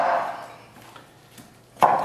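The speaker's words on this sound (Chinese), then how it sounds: "咱们把这个小鸡脖给它 剁下来" A cleaver chops through a small supermarket chicken's neck on a board: one loud, sharp chop near the end after quieter scraping and handling sounds, close and without talk.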